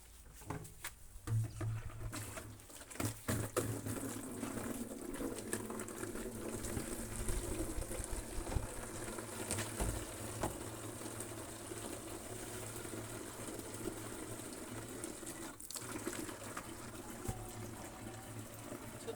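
Water runs from a garden hose into bottles in a yard, a quiet continuous splashing and gurgling pour with faint outdoor background sounds.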